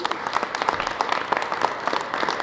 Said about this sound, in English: Let's have a round of applause for the parents.